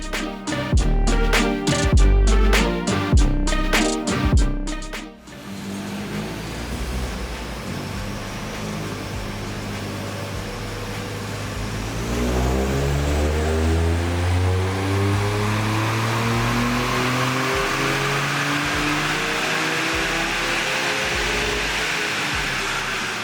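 Toyota GR Yaris on a mainline all-wheel drive chassis dyno, with a few sharp revs followed by a loud sustained pull as the engine climbs steadily in pitch, close and continuous.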